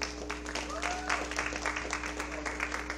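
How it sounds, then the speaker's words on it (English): An audience at a talent show quarter-final applauds its contestants with a soft, steady patter of clapping, faint and somewhat distant over a low electrical hum. "Thank you for acknowledging that with a round of applause."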